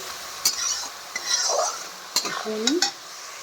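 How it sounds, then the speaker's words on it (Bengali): A spice masala with meat masala is sautéed in a pan, a continuous sizzle with repeated metallic scrapes and clinks of a spoon stirring against the pan. "এগুলো দিয়ে এখন আমি ভালো করে এটা মশলাটা কষিয়ে নেব।"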